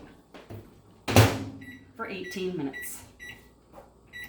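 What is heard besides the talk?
microwave oven running with Tupperware pressure cooker inside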